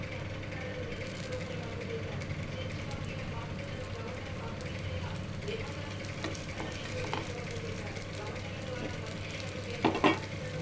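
A dosa fries in oil on a pan with a soft, steady sizzle and faint crackling throughout, plus a few light scraping knocks near the end and low background hum.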